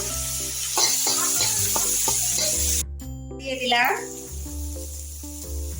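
Food frying in a pan with salt and turmeric is stirred, giving a close crackling sizzle and scraping under steady tonal sounds in the background.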